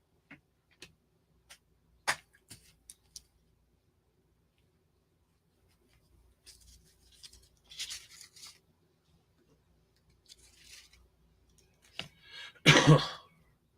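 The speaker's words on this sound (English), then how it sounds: "I just want you to think about that while I'm shuffling the cards here." Tarot cards shuffled by hand during a reading: soft, scattered taps and clicks, then brief riffling bursts that end in a louder flurry near the close. Quiet and close, with no talking.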